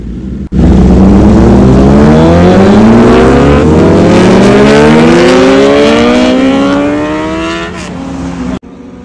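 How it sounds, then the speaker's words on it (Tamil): Four superbikes, among them a BMW S1000RR M Sport and a Honda CBR1000RR-R Fireblade, scream past in a loud fly-by, engine pitch sweeping upward through the gears then fading before a sudden cutoff. "ஸோ இந்த 4 பைக்கோட ஃப்ளை பை வீடியோ"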